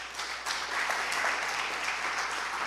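Applause from a church congregation, a steady wash of many hands clapping that swells slightly and holds, heard from the middle distance in a reverberant hall.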